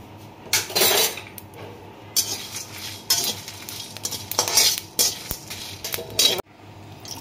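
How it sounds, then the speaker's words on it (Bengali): Whole spices (dried red chillies, cinnamon, cardamom, cloves, coriander and cumin) dry-roasted in a wok, stirred in several loud scraping bursts with metallic clinks between them, close up and without talking. "শুকনো কড়াতে একটু ভেজে নেব"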